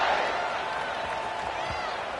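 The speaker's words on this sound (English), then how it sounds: "this crowd is buzzing after that last score" A football stadium crowd buzzing after a score, a steady roar of many voices with scattered applause that eases slightly over the brief span.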